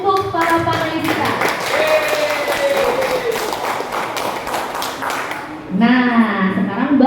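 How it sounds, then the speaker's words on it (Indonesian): Audience at a panel event clapping for the panelists, a dense steady patter of applause throughout while a voice talks over it, the clapping continuing under a louder voice near the end. "berikan aplaus dulu untuk para panelis kita"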